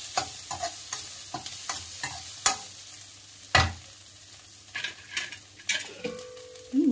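Spices stirred into egg noodles frying in a pan, with repeated scraping and clacking of a spatula against the pan over a soft sizzle, in uneven strokes, close and moderately loud.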